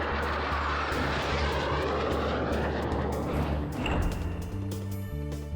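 Aircraft engine roaring loudly and continuously in mid-air as engines and turbines fail, a harsh droning whine with a rising surge near the end.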